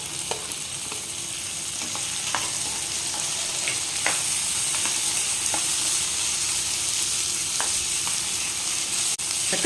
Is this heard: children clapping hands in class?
no